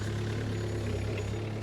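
A telescopic loader engine idling with a steady low diesel rumble, close and constant throughout, with no start-up heard.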